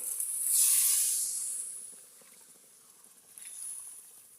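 Hot water poured onto fried spices for a fish curry bursts into a loud hissing sizzle that fades over a second or so, followed later by a smaller, quieter second hiss, with no speech.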